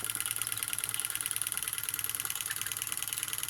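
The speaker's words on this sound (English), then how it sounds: "You can probably hear the little peanut rider getting a little bit faster." A small PM Research Peanut Rider Stirling engine driving an Empire water pump by a drive band runs steadily with a quick, even mechanical ticking that gradually picks up speed, close by and alone.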